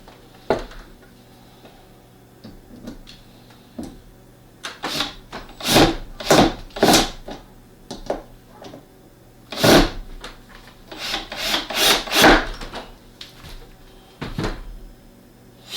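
A wooden lid is fitted onto a handmade felt-lined lockbox: a series of sharp wooden knocks, clunks and scrapes arrive in irregular clusters over quiet room tone, close to the microphone.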